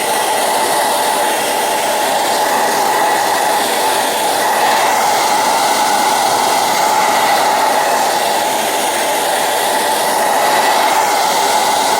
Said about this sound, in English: Excuse the sound of my dryer for a second.